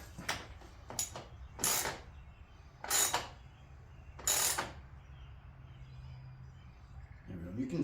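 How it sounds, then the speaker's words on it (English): A socket ratchet tightening a bolt on Rough Country side steps for a 2024+ Toyota Tacoma gives several sharp, close clicking bursts spaced a second or so apart, followed by quiet. "Tight by hand, and we'll give it just a little more with the socket."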